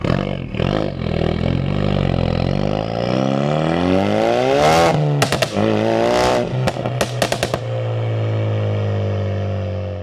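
Ford Focus RS with a stage 2 induction kit, Scorpion sports cat and Scorpion full exhaust, revving loudly and close, rising to a peak, then sharp crackling blips and pops before settling into a deep idle.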